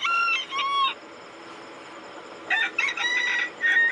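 A semi-bantam rooster crows twice, close and clear, with a short hoarse call at the start, then a longer broken crow after a pause of quiet background hiss.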